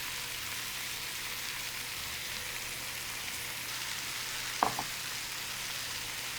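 Onions sizzling in a pan alongside browned butternut squash, a soft, steady frying hiss heard close and fairly quiet, with one brief clink partway through.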